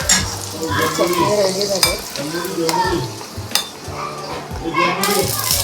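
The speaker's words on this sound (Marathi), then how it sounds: "आपण आता तडका देऊन घेतोय चटणीला." A tadka of hot tempering sizzles loudly into chutney for rava medu vada, a steady crackling hiss with a few sharp spatters, under continuous talk and children's voices in the background.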